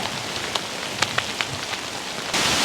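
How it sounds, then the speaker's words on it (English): Dense patter of hail striking a surface in Bechler Canyon, Yellowstone National Park, a steady hiss broken by sharper individual impacts, growing heavier near the end. "We've got hail."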